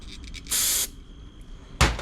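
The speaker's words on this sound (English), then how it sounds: "Give it a spray." Short hissing spray bursts aimed into a part of a Honda Harmony HRS216 push mower that had been stored for years: one sustained blast of about a third of a second, a pause, then a second sharp burst, close up.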